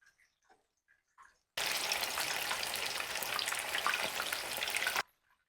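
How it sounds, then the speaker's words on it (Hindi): Chicken pieces frying in hot oil over a medium flame, a loud steady sizzle lasting several seconds and then cutting off, with a few faint clinks before it. "अच्छा देखिए, हम इसे फ्राई कर रहे हैं।"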